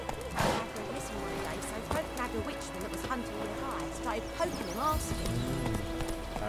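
Roach, the horse in The Witcher 3, moving at a brisk pace with clear clip-clop hoofbeats and a brief whinny, heard close over game ambience and someone talking.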